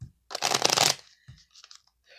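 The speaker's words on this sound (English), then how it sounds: "I was shuffling using the Gateway Oracle" Gateway Oracle cards being shuffled: a dense riffle of papery flutter lasting about half a second, followed by a few faint taps and soft card handling.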